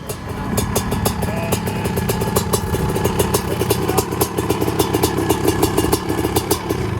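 A 2021 Honda CR500R two-stroke engine in an aluminum CRF450R chassis runs close by with a loud, steady, rapid popping beat and mechanical clatter throughout, with no talking.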